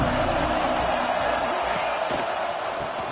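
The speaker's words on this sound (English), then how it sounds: "This crowd ready to make its presence known." A loud football stadium crowd keeps up a dense, sustained roar, with a few sharp bangs and shouts standing out and the noise easing slightly toward the end.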